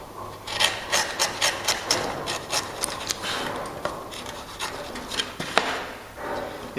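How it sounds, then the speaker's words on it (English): A chisel is pushed through wood to cut a door lining housing joint, giving a close series of rhythmic scraping, paring strokes that then turn into slower, rougher rasps with a few sharper knocks, and nobody talks. "we can now push through using our chisel, nice and straight"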